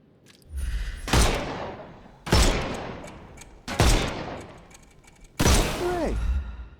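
Four loud, separate gunshots spaced about a second and a half apart in the Sherlock Holmes Chapter One game, each a sharp blast trailing into rumbling decay, one followed by a whizzing ricochet.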